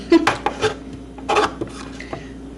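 Knife chopping vegetables on a board for an oven pot roast, a few uneven clattery chops and scrapes close by, with clinking kitchen sounds between them.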